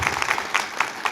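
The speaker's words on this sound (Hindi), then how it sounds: "ताली छोटी है" A small group claps briefly, a short burst of light, scattered applause at moderate volume.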